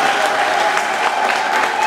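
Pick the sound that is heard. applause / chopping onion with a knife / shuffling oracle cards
applause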